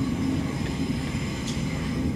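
Virgin Pendolino train passing on the London Midland line toward Codsall, a steady distant rumble and rushing noise that holds throughout the short moment.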